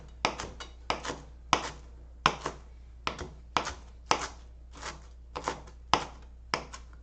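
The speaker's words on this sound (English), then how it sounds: "We're just roughly chopping it." A knife roughly chops garlic on a cutting board, sharp close taps in quick pairs and small bursts repeating steadily, with no voices over them.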